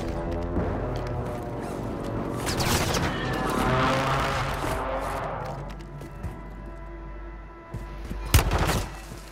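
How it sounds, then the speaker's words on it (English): Airstrike explosions in Call of Duty boom and rumble in heavy bursts, mixed with rapid gunfire, fading to quieter shots before a sharp loud blast near the end. "Hostile airstrike near your location"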